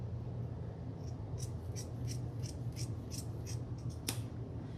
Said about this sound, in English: I'm actually going to go ahead and trim down this just a little bit so that I have more like 1/4 of an inch.